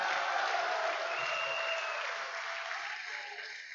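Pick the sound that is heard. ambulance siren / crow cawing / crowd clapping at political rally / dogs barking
crowd clapping at political rally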